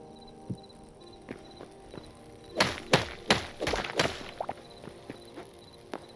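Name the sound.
placing blocks in video game Hytale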